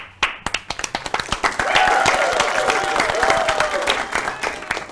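An audience at an Italian game show breaks into lively applause: scattered claps quickly build into dense, sustained clapping that keeps going throughout.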